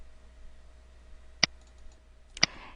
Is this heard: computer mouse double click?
yes